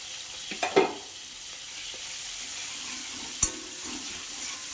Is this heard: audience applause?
no